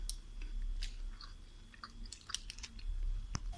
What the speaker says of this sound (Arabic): وادي التشانكي حلوين اهي، ونتذوقها